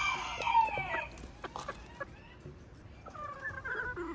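Old English bantam roosters and hens on a homestead crow and cluck, one loud crow at the start followed by scattered clucks and another crow later, moderately close.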